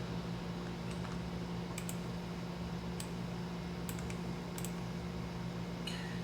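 Fingers tap a computer keyboard and hit the enter key, producing a few faint, scattered clicks over a steady low hum.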